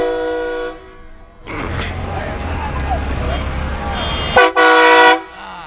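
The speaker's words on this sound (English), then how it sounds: "That truck's making a train noise." A truck's deep, sustained horn blares twice, loud and close like a train horn, with people talking and traffic noise in between, in streets after the Lakers won the 2010 championship.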